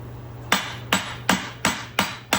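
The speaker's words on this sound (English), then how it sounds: "I can't get a really good slam because of the angle I have it in the vise" A hammer strikes a ball joint being driven into a 2009-2020 Dodge Journey control arm held in a vise, six sharp metallic blows at an even, steady rhythm, close and loud, with no talking.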